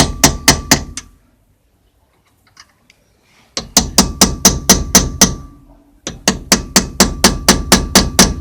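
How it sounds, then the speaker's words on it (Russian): Rapid metallic hammer taps drive a cotter pin from the rear wheel hub nut of a ZAZ Tavria/Slavuta car, coming in three loud, close bursts of evenly spaced strikes separated by short pauses. "Необходимо взять острый предмет, молоточек, и расшплинтовать."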